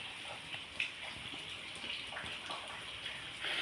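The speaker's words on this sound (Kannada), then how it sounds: "ಈ ಚಳಿಗೆ ನೋಡಿ ಅಂತೆ ಮಳೆ ಬರ್ತಿದೆ ಈಗ ಸಹ, ಹನಿ ಹನಿ." Light rain in cold weather falls as a soft, continuous hiss of fine drops with faint scattered patters, steady and fairly quiet throughout.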